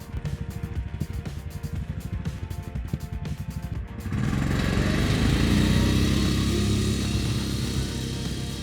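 A 20 HP snow sled engine drones steadily while driving, starting as a rough, pulsing putter and then rising into a louder, smoother sustained roar as it picks up speed.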